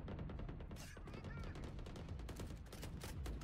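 Rapid gunfire crackles through a shooter video game match, bursts of shots fairly faint and mixed with game sounds and some voice activity.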